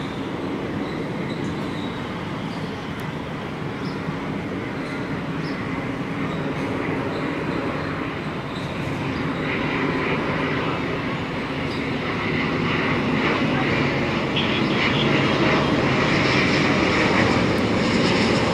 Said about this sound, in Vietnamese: Bây giờ thì mời mọi người chiêm ngưỡng pha hạ cánh của chiếc máy bay này nha.